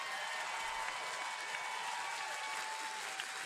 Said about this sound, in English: everyone right now put your hands together for Nina's incredible performance?